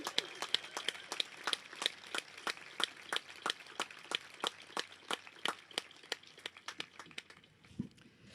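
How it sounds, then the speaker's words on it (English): Graduates at a graduation ceremony applaud in a quick, fairly regular run of sharp claps that carries on throughout, moderately close and with no talking over it. "Why don't you give yourselves a big round of applause?"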